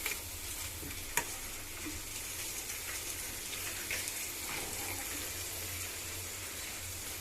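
Chicken filling for frankies cooking in a pan, a steady, fairly quiet sizzle with faint stirring scrapes and one sharp tap, continuous and alone with no talk.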